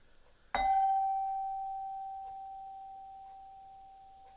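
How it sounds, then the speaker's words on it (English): A ceremonial gong is struck once and its clear, steady tone rings on alone, slowly fading over several seconds. "We ring the gong 3 times."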